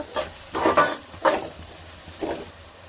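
Onions with turmeric fry in a pan for chicken gravy, a soft steady sizzle broken by four distinct scraping stirs of a spoon against the pan, close and clear with no voices.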